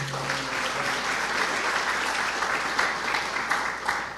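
A large church congregation claps steadily and loudly during a Portuguese-language sermon, sustained applause filling the space, with a brief voice or tone at the very start.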